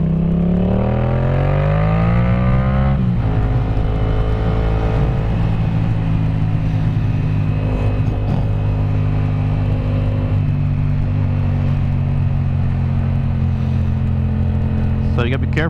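A Yamaha FZ-07 motorcycle with an aftermarket exhaust revs and accelerates loudly on a road ride, the engine note climbing steeply before settling into a steady, powerful drone that holds for the rest of the clip.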